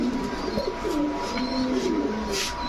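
Racing club pigeons with leg tags, a pair for sale at a market, coo continuously in a close, busy cluster of overlapping low rolling calls.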